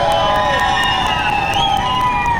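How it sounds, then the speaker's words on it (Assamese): At a live Bihu stage event, a crowd raises a steady wash of cheering and shouting for a guest, loud and continuous throughout, with no distinct claps standing out. "এবাৰ বিজু দাৰ কাৰণে হাত চাপৰি এটা লাগে।"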